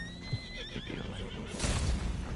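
In the video game Red Dead Online, a horse that is skittish about crossing lets out a clear neigh, followed by snorting and clip-clopping hooves, heard close and alone.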